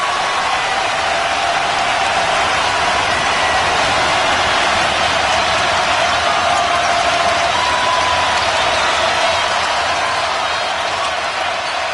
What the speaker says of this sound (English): And that's got the crowd fired up.